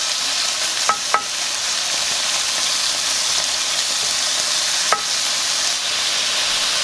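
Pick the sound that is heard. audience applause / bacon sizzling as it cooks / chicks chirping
bacon sizzling as it cooks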